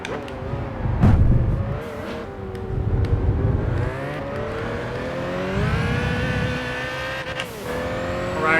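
A Ferrari F40 race car engine in the Gran Turismo 5 video game screams up through the revs, with rising whines, gear changes and brief tire squeal, loud and close.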